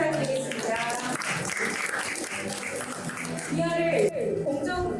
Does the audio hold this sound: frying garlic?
no